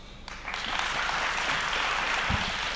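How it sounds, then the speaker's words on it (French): A conference audience breaks into loud applause and a standing ovation, dense continuous clapping that swells quickly and holds steady, heard from within the hall. "d'applaudir très fort, faire une standing ovation"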